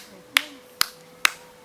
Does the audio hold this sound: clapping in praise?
yes